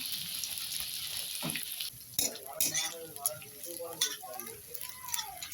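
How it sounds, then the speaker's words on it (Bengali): Onions frying in oil seasoned with bay leaf and whole cumin for a Bengali fish curry: a steady close sizzle with spatula scrapes and metal clinks against the pan, while a voice speaks briefly over it. "পেঁয়াজটা এবার ভেজে নেবো"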